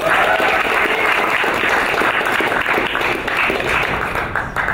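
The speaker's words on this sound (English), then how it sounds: "Let's give them a round of applause." Audience applause at the HackSC 2023 hackathon closing ceremony, a dense, steady wash of many hands clapping together for about five seconds before thinning slightly at the end.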